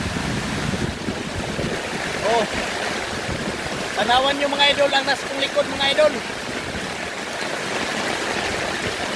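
Heavy rain and strong wind roar as a steady, loud wash of noise, with rushing floodwater churning beneath it. Someone speaks over it partway through.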